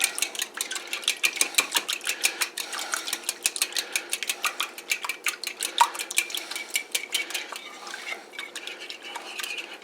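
Eggs and milk beaten in a bowl for a breakfast casserole, a utensil clicking rapidly and steadily against the side, close and fairly quiet, with no talking.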